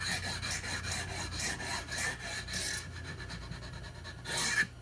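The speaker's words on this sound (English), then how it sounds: "the block, it just sounds like it's doing it, but we're literally just riding it across the top" A fret leveling block rubs back and forth across guitar frets, producing a close, rhythmic scraping rasp in steady strokes that thin out briefly before one final stroke.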